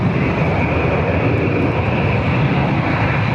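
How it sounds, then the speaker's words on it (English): Vueling airliner lining up at Barcelona for a departure to Faro, a steady loud engine rumble and whine that holds even throughout, with no talk over it. "now we have Vueling lining up for Faro departure"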